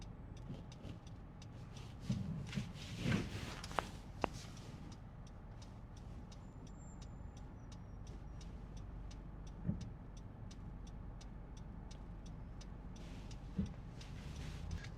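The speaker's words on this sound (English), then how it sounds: "Slowly making our way along in this traffic, this morning traffic." A car crawling in the morning traffic queue on Barnett Street in Montego Bay, Jamaica: a steady low engine rumble with a regular ticking over it and a few faint bumps, with no talking.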